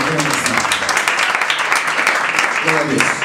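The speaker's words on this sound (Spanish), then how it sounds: "Dale un aplauso al Rey." A church congregation claps together in a continuous burst of applause, dense and close, with voices mingling through the clapping.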